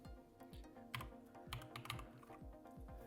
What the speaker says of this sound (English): so just type community